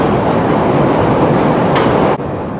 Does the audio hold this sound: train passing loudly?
yes